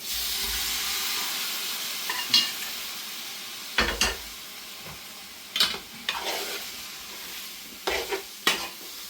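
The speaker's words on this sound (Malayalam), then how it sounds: "ഇനി നമുക്ക് ഇതിലോട്ട് ബീഫ് ഇടാം" Beef sizzles in a hot pan under a soft hiss, with repeated scraping clatters from stirring at irregular intervals, close by and without talking.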